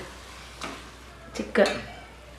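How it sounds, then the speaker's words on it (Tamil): Chicken stirred in a cooking pot for chicken curry: a few short, close scraping clinks of a spoon against the pot, spaced over about two seconds, with quiet kitchen background between them. "சிக்கன் சேர்த்து ஒரு கிண்டு"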